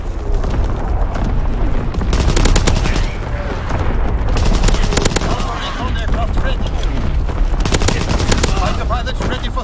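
Dense Call of Duty WW2 multiplayer battle on the Gibraltar map, with loud rapid machine-gun bursts, repeated rifle shots and heavy booms from a primary battery barrage, chaotic and continuous, while game voices speak underneath.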